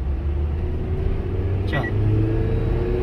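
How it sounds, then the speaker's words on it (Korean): A car that lacks power in hot weather drives along, its engine rumbling low and steady as it accelerates, with a brief faint whoosh midway and someone speaking briefly. "엔진 소리가 달라지죠?"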